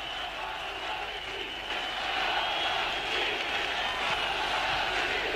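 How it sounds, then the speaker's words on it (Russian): A large crowd in the stands at Luzhniki during the 1980 Moscow Olympics water polo match between the USSR and Hungary, chanting and cheering in a steady, distant roar that swells slightly partway through. "Молодцы, молодцы, звучит с трибун"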